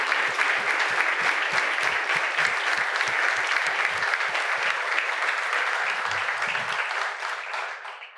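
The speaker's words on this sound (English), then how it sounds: "let's give him a round of applause for his dedication and service" An audience at a State of the City address applauds a police chief with steady, even clapping that continues for about eight seconds before tapering off at the end.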